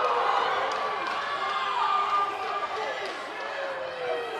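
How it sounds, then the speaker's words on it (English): Littleton hockey fans in a rink erupt after a penalty call in a 12U youth game, a sustained, dense roar of shouting and cheering that stays loud throughout, with voices blended into the crowd noise. "Littleton's crowd goes crazy thinking that it shouldn't have been a call."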